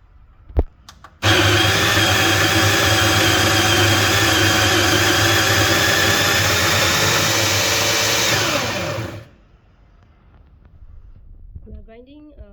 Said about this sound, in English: to hear how noisy this grinder is